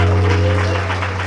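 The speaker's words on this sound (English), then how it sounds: "Give yourself a round of applause for coming out tonight" An audience at a televised poetry cafe show applauds in a steady, dense wash of clapping for over a second, with a strong low hum running underneath.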